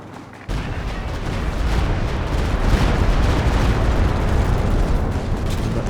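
A Stuka rocket barrage in Company of Heroes 2 erupts after a brief lull, becoming a dense, continuous roar of overlapping loud explosions that persists to the end.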